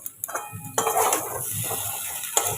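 A metal kadai rattles and clatters on a stove stand during home cooking, with a few sharp knocks at first, then a sustained scraping and rattling that ends with one more clank.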